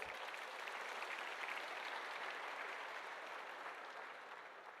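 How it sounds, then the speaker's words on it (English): Steady, even applause from an audience honoring students who completed a yoga course, soft and somewhat distant, continuing throughout. "this deserves certainly a round of applause for their hard work"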